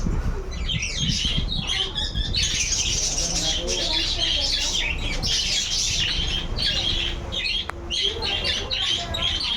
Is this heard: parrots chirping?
yes